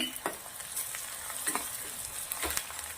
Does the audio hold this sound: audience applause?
no